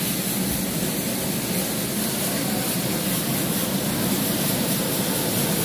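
Rice mill machinery runs in a paddy milling plant, the first-stage husker giving a dense, constant, loud roar with no pauses throughout.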